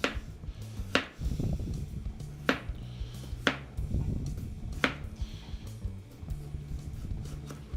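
A knife slices new potatoes with thin skins into roughly one-centimetre rounds on a board, giving five or six sharp, separate chops spaced about a second apart, close and moderately loud, with quiet kitchen noise between cuts.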